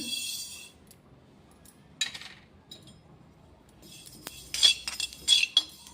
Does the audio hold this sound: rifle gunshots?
no